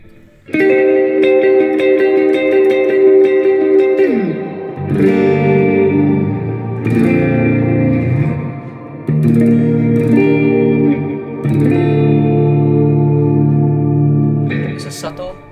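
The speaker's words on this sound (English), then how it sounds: "Then we have the clean patch." Guitar played through the clean patch of an Ampero multi-effects unit in a band rig: several sustained, ringing chords with shimmering, chorus-like echo, alone and fairly loud with no voices.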